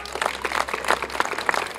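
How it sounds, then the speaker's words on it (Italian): A burst of applause from a small crowd at a beauty pageant selection evening in Calcroci di Camponogara, steady clapping through the whole stretch without any voices over it. "io intanto voglio un altro applauso"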